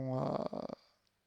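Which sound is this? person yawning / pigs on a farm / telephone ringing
person yawning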